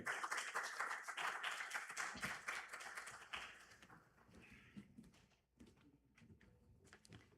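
Audience applause after a talk on wisdom in popular music lyrics: dense clapping that thins out into scattered individual claps toward the end, fairly distant in the room.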